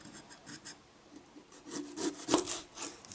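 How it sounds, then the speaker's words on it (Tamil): A freshly sharpened knife cuts an onion on a chopping board, making several soft, rasping slices that are faint and close, growing a little louder toward the end. "இந்த ஆனியனை கட் பண்ணி பார்ப்போம், இது எவ்வளோ தூரத்துக்கு ஷார்ப்பாக இருக்குது அப்படின்றது."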